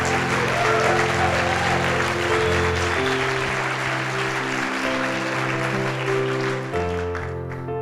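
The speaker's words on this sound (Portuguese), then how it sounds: "dê um aplauso a Jesus" A church congregation at a Sunday service claps together in loud, continuous applause that thins slightly toward the end, with faint voices underneath.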